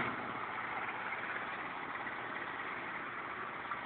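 Honda car engine idling steadily after a cold start on a snowy winter day, a constant low hum running at an even level throughout with no voices.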